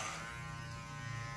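An electric hair clipper cuts a man's hair near the ear, buzzing steadily and close with a low motor hum, faint and alone without talk.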